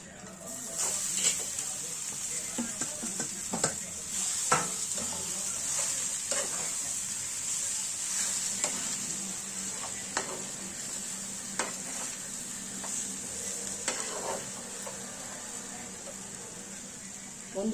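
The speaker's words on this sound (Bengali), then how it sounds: "এই আধ ভাঙা বিউলি ডাল যেটা বেটে রেখেছিলাম সেটা দিয়ে একটু নাড়িয়ে নেবো" Ground split urad dal paste frying in oil with chillies for kachori filling, a steady close sizzle broken by scraping stirs of a spoon against the pan at irregular intervals, with no talk.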